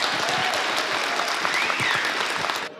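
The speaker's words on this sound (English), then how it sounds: "One more round of applause, though," Dense, steady applause from a university audience for the competition finalists, filling the whole stretch and then cutting off abruptly near the end; faint voices can be made out beneath the clapping.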